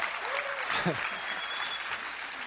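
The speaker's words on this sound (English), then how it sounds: "We can handle pretty much any amount of applause." Audience applause at a Google Wave product demo, a steady dense wash of clapping with a brief voice-like sweep and faint talk partway through.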